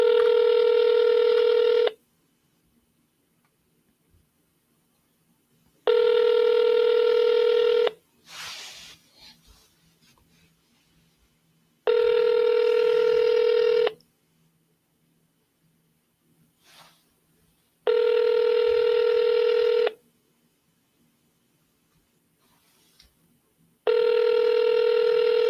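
An outgoing phone call to a seller rings out: five identical ringback tones, each about two seconds long, separated by roughly four-second gaps of faint line hiss. The tones are steady and clear, with no talking over them.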